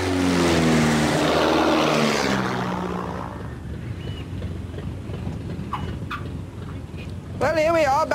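A propeller airplane taking off in an air race, its loud engine drone rising then fading into the distance, with background voices and a brief sharp sound near the end.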